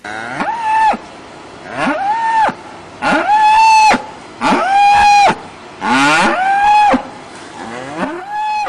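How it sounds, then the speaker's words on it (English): Mother cows and calves bellowing for each other after being separated: a run of loud, long drawn-out moos, one after another with short gaps, close and dominant. "This is what he's heard from mother cows and calves calling for each other after they've been separated."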